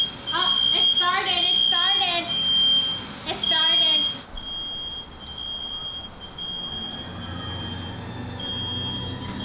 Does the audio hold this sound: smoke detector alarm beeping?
yes